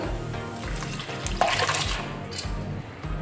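Water from cooked squid splashes and pours into a hot pan, a steady watery rush with bubbling and sizzling underneath, heard up close.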